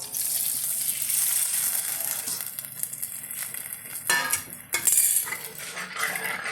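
Thin gram flour batter for green chilli curry is poured into a cooking pot, making a gushing, splashing sound with light clinks of utensils against the metal. The pour is close and fairly loud, with no talking.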